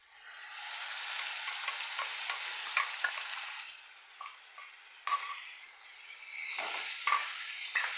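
Onion-tomato paste with ginger and garlic fries for a mutton gravy, a soft steady sizzle with occasional spoon scrapes and taps against the pan, no talking.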